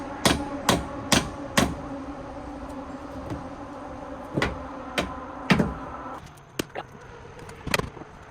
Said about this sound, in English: Nothing like some backwards hammering.